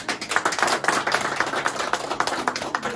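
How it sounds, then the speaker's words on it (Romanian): A crowd gives sustained, dense applause for grandfather Dumitru Balan at a family surprise gathering in the village of Lingura, the clapping loud and close with a loose, pulsing rhythm throughout. "Aplauze pentru domnul Dumitru Balan"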